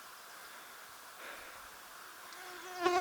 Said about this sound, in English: Mosquitoes are just horrendous.